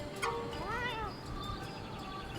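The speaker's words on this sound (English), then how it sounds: "let's hear this cat's English voice" A cat character in a video game, heard in its English voice, gives a single clear, drawn-out meow, close and alone over a faint background hum.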